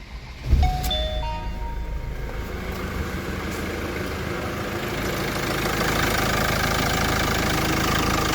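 A Peugeot Boxer 2.2 HDi diesel engine just back from injector repair cranks and catches with a thump, then settles into a steady, slightly knocking idle that runs on evenly and close by.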